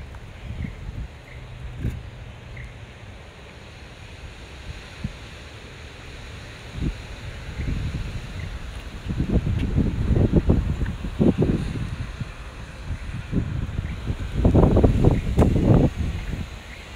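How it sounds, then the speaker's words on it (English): Strong wind gusting outdoors during a drone flight, buffeting the microphone with rumbling low bursts that swell and fade, loudest in surges near the middle and end of the stretch. "Look how freaking windy it is!"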